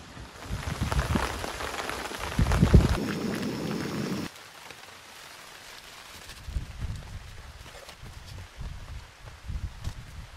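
Steady rain falls on a campsite on a rainy morning while canoe camping on Lows Lake in the Adirondacks, a dense wash of drops that is louder and fuller in the first few seconds, then settles into a softer, even patter.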